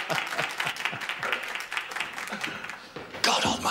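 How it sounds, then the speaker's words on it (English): A studio audience breaks into applause during a comedy show, a steady patter of many hands clapping with voices talking over it, swelling louder toward the end. "Let's have a big round of applause"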